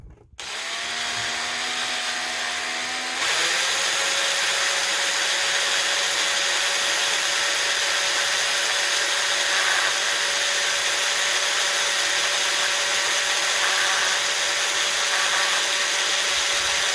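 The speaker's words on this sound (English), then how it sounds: "drill a hole right down the middle there" A power drill boring a hole into a diecast model car, whining as it spins up, then holding a loud, steady high-pitched whir under load for over ten seconds, close and alone.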